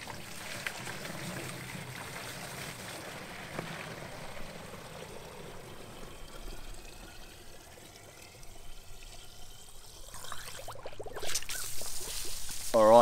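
Water gushing from an 18 mm garden hose into a container, a steady rushing pour that slowly changes pitch as the vessel fills, ending in louder splashing near the end.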